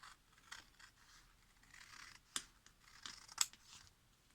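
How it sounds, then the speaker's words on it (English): Scissors make quiet, close snips and scrapes, cutting paper along drawn lines for a diamond pattern. The sounds come as a few sporadic cuts, with sharper snips near the middle and end. "Make sure you cut the line on the line you draw, not next to it or somewhere else. Cut those lines."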